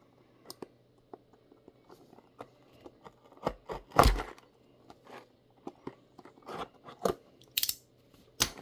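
A utility knife slitting open the cardboard box of a LEGO fighter-jet set: sparse close clicks and scratches, then a loud crunchy tear around the middle, followed by more intermittent snips and rustles.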